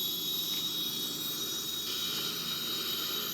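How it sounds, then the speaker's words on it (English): The right wing jet engine of a Boeing 777-300ER spools up, giving a steady broadband roar with a high whine laid over it that stays constant and fairly loud throughout. "So you can see the right wing engine starts spinning now."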